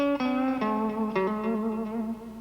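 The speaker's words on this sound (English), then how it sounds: "Classic rock sounds like this." An electric guitar plays a short classic rock riff of ringing chords and bent notes, clean to lightly overdriven, loud and close with no voices.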